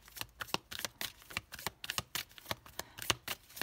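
Oracle cards being shuffled by hand, a quick run of crisp, close riffling snaps and flutters with uneven rhythm, quiet and alone with no talking.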